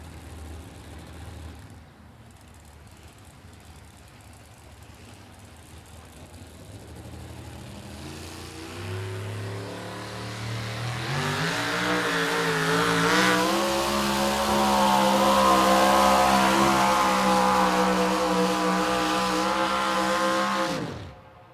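Trucks at a truck jam race down the track: a distant engine grows into a loud, close roar that climbs through rising revs and gear changes, then holds steady before cutting off.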